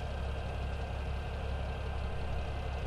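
A tractor engine in Farming Simulator 17 runs at a steady idle, a constant low rumble with a mid-range drone, holding even throughout with no talking.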